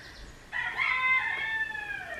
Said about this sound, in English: If you can hear my chicken in the background